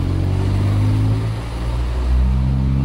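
A Skoda car engine accelerating on a road, heard from a following motorbike, a loud low rumbling drone that dips briefly then swells again, with no talk.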